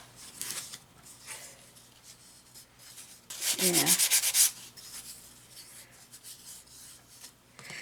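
Close, soft scratchy rubbing on a lumpy painted surface with purple paint, in short strokes and then a louder burst of brisk sanding-like scrubbing, with quiet room noise between.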